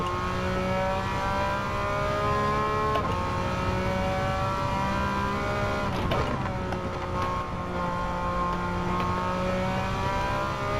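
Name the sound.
race car engine revving in Gran Turismo 7 video game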